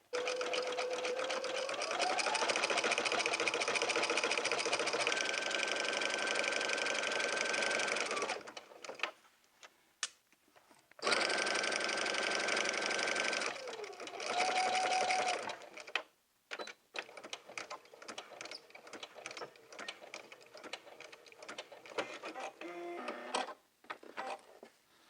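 A sewing machine runs a zigzag stitch around a jumpsuit crotch curve in two long, steady whirring bursts, speed rising and falling, followed by scattered short clicks and handling noises.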